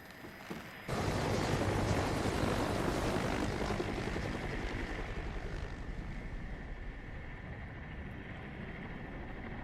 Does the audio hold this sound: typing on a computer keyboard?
no